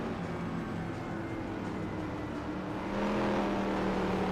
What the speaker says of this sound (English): You can even hear how bad the car sounds after the fact.